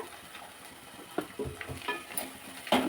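Tempering spices crackle and sizzle in hot oil, with sharp popping bursts and occasional clinks of a spoon against the pan.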